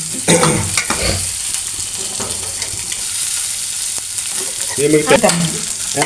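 Raisins and nuts sizzle and crackle as they fry in a pan, with a steady bright hiss broken by scraping stirring strokes and a few knocks.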